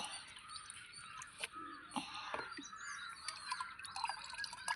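Liquid from a bottle trickles and pours steadily into water close by, while making homemade fish amino acid, with a soft continuous splashing and a few drip-like plinks.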